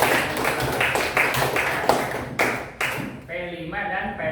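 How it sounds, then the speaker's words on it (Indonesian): Junior high students in an Indonesian classroom clap their hands in a quick, uneven burst of sharp claps and taps, with a voice talking as the clapping dies away. "Oke, tepuk tangan."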